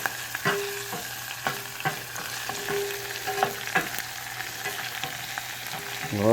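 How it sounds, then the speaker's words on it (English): Serrano, garlic and chili paste fry in vegetable oil in a pan, giving a steady close sizzle broken by repeated scraping stirs and clicks, with no talking. "I dumped in the serrano, the garlic, and a teaspoon of the chili paste. I'm going to let this cook for about 30 seconds."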